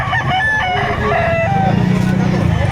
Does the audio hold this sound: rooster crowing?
yes